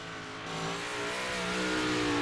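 A big block modified dirt race car qualifying on the Knoxville dirt track, its engine revving and climbing steadily in pitch, loud and close with no voices.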